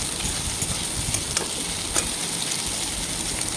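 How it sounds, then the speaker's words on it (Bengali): Eggs frying in a pan while chow mein is being prepared, giving a steady sizzle with light scraping and stirring clicks throughout, at moderate level and with no voice over it. "2টো ডিম দিয়ে একবারে পুরো ভুজিয়া করে নেবো একদম"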